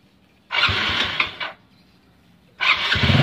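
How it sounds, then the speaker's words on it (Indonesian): A Yamaha Mio scooter's electric starter cranks and the small engine catches twice, each burst of whirring and revving lasting about a second with a short quiet pause between. "Tes starter"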